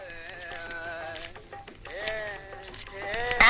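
Goat bleating at a busy rural livestock market, several wavering cries in close succession, loud and near, with crowd noise and voices in the background.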